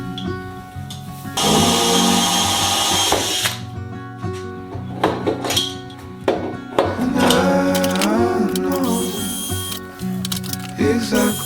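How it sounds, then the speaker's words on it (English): A power drill drilling into a metal tube whines loudly for a couple of seconds, then bites in bursts with grinding, shifting pitch against a background of room noise. "I'm going to go ahead and drill this and make sure it doesn't move."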